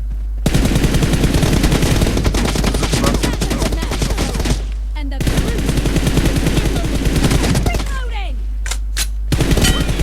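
Loud, rapid bursts of automatic gunfire from PUBG Mobile come close together, with short pauses between volleys and a steady low hum underneath.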